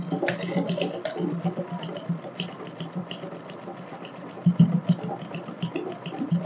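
A sewing machine stitches lining onto a crinoline ball dress, a steady mechanical whir with rapid rhythmic ticking that runs close and moderately loud, pausing briefly and picking up again.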